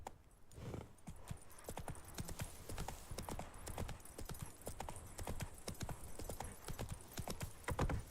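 In The Witcher 3, the horse Roach gallops with quick, steady hoofbeats heard close and fairly loud throughout, with a faint bit of game ambience underneath.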